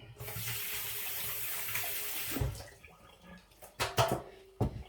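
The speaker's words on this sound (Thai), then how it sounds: "แป๊บนึงล้างมือก่อน" A kitchen tap runs steadily while hands are washed under it in a home kitchen, the broadband water rush filling the first half and then cutting off into a few scattered splashes and clatters.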